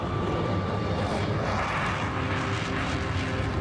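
Tupolev Tu-144 supersonic passenger jet with four turbojets and a slender delta wing, heard as a steady, loud, broadband engine roar that holds without a break, with no voices.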